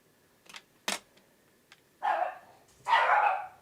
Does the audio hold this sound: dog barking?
yes